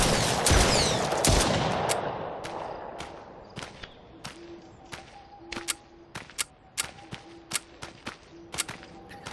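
Gunfire in the VR shooter The Brookhaven Experiment, sharp loud shots starting with a couple of heavy blasts, then a string of single cracks spaced irregularly over a faint humming background.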